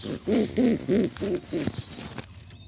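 A black Lahori pigeon coos close by in a run of about five deep, rhythmic, throaty coos, then falls quiet with faint background noise.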